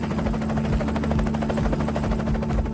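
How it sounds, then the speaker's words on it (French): American helicopters cross the Afghan-Pakistani border on a moonless night, the rotors a loud, throbbing beat with a steady low engine whine running throughout. "des hélicoptères américains passent la frontière afghano-pakistanaise"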